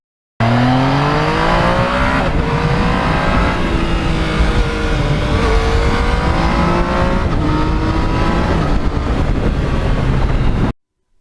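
A Yamaha R1 crossplane superbike engine revs hard through open velocity stacks, rising and falling in pitch through several sustained loud pulls, close up with no talking.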